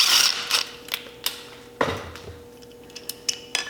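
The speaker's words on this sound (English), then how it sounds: "all you gotta do is back out the bolt that's in that rectifier" A wrench backs out the rectifier bolt on a 2002–2009 Kawasaki KLX110 dirt bike, giving a few sharp, close metallic clicks and ratchet ticks spaced irregularly, with one louder clank in the middle against a quiet background.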